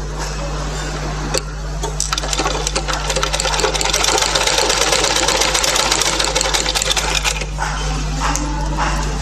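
A sewing machine runs steadily as it stitches a baby cap, its rapid mechanical needle rhythm building after a few brief starts and then stopping near the end, over a constant low electrical hum.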